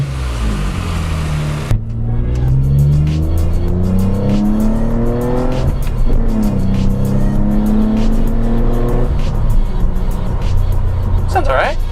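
A 2007 Mitsubishi Eclipse GT with a cold air intake fires up after a brief crank, then revs in several rising and falling sweeps, loud and close, with people talking alongside.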